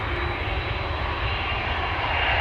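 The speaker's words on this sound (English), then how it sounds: "Air Serbia is on the move. That means that the 787-10 Dreamliner is also on the move." An Air Serbia Boeing 787-10 Dreamliner taxiing at Amsterdam Schiphol produces a loud, steady engine drone with a low rumbling pulse underneath, close and unbroken, with no talking.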